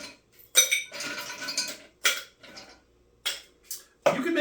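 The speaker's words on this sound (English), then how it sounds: "we'll take our shaker, add a few cubes of ice," A few ice cubes dropped by hand into a metal cocktail shaker while mixing a pumpkin spice espresso martini, making sharp separate clinks and rattles in quick succession, close up and clear against quiet gaps.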